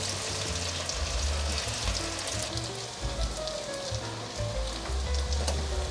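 Vegan mock fish made from eggplant and sweet potato deep-frying in hot oil, a steady dense crackle and bubbling sizzle that runs the whole time, close and fairly loud, with no voices.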